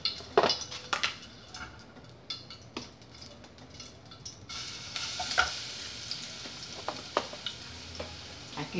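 Garlic sizzling in a pan as the base for beef stroganoff, a soft steady frying hiss with light scrapes and clinks of a utensil stirring against the pan, close and quiet with no voices.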